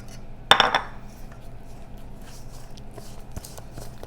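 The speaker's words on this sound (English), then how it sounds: "So I'm just going to mix." A spoon clinks against a bowl of thick scone batter with flour in a brief clatter, then fades to soft, faint stirring.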